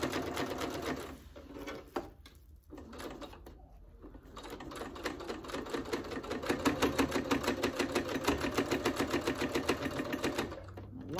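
A sewing machine stitches the fabric binding of a homemade hot pad, its rapid needle running in steady bursts, briefly pausing and restarting, close and clear with no talking.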